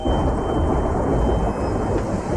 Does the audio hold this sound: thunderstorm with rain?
yes